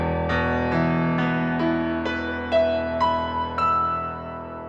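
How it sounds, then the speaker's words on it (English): A piano beginning to go out of tune plays a slow sequence of struck notes over a lingering chord, close and moderately loud, with a faint wavering in the sustained tones and no speech. "Then as the piano starts to detune, it sounds like this."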